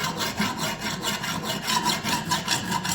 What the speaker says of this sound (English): You just want to sharpen it like you'd sharpen it with a knife.